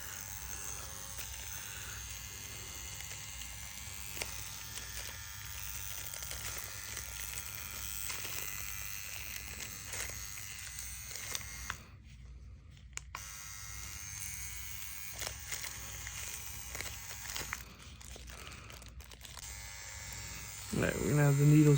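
CNC Q2 tattoo machine fitted with spade needle cartridges and running on a Javelin power supply, a steady close electric buzz that drones for about twenty seconds with a brief dip in the middle.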